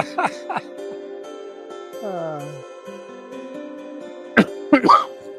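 A few short coughs into a phone near the start of a radio show and a burst of throaty coughing near the end, separated by a brief sliding electronic tone.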